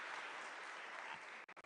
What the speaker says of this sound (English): a round of applause for the Vice President